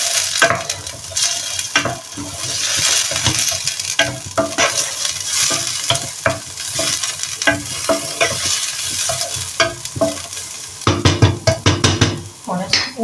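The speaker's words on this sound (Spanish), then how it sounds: "Sofreímos un poco." Pork cheeks sautéing in a pan, a loud continuous sizzle broken by frequent clatters and scrapes of a utensil stirring and turning the meat, close up with no voices.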